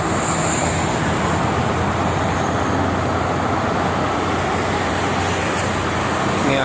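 Continuous roar of toll road traffic on the Jakarta–Cikampek toll road, private cars and tour buses rushing past in a steady, loud wash of tire and engine noise.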